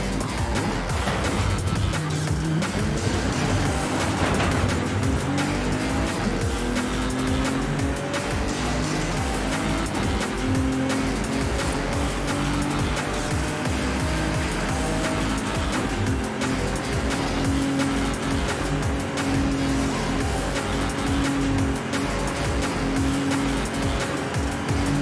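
A car in the Forza Horizon 5 racing game drives steadily straight ahead, its engine droning continuously with shifting pitch while tires squeal intermittently throughout.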